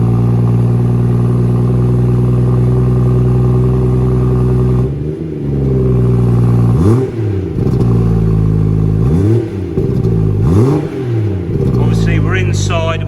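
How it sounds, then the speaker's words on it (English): A BMW M240i fitted with an M Performance exhaust and chrome tips starts up indoors, settling into a loud, deep idle, then gives several short blips of the throttle that rise and fall in pitch. "going to start the car for me"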